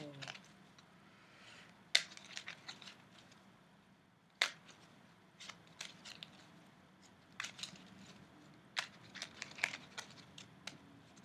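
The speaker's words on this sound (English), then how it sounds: "Just a little bit more shuffling and then we can go." Soft riffling and crisp snaps of a tarot deck being shuffled, quiet and close, with scattered sharp clicks over a faint low hum.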